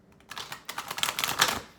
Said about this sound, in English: Give a couple of shuffles here.